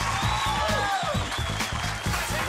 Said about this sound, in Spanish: nos vamos con un fuerte aplauso a Luis Alfonso